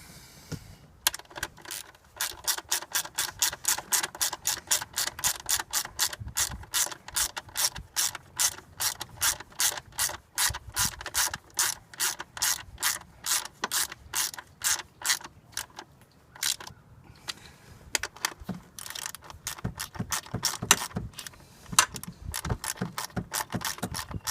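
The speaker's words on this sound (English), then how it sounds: "now I'm just going to tighten everything down" Rapid ratchet wrench clicking while tightening screws during a fuel injector replacement on a Chevy GMC engine, long runs of crisp close clicks with brief pauses between bursts, no voices.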